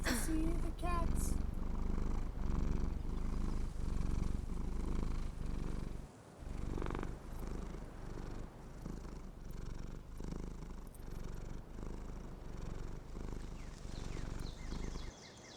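A cat purrs close and steady in slow rhythmic waves, the soft rumbling cycles repeating throughout with a brief pause near the middle.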